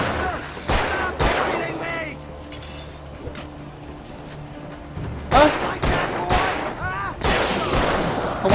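Gunfire in the horror video game Alan Wake: several loud, sharp shots in bursts at the start and again near the end, with a low droning game ambience between them and people talking over the action.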